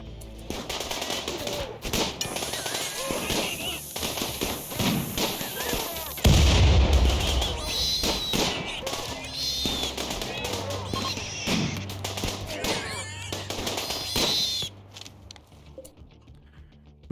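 Turret gunfire during a raid in the RimWorld video game, dense rapid rattling shots and booming impacts layered continuously for most of the stretch, with a heavy thump midway and a voice talking over the game sounds.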